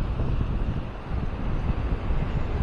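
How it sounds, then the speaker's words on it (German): Moderate wind buffets the microphone at the seaside in Maspalomas, Gran Canaria, a continuous rumbling rush with faint surf underneath. "Sie hören es, wir haben hier Wind, aber nicht sehr stark."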